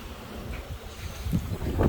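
Wind gusts outdoors in a constantly windy spot, buffeting the microphone with a low rushing roar that swells louder toward the end.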